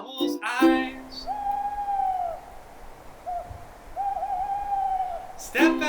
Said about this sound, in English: I looked outside and much to my surprise, in my tree was big old owl's eyes.